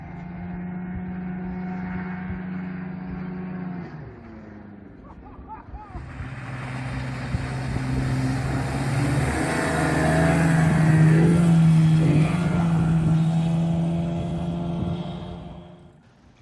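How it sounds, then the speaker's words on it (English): Forty-year-old Johnson 25HP outboard motor pushing a small 60-year-old aluminum boat, its engine tone rising and steadying into a loud sustained drone with splashing water, after a quieter idle at the start. "I had forgotten how powerful this motor is on such a small boat."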